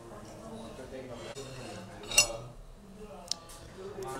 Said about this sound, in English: Using the two spoons method, I'm gonna set myself up with a sample plate.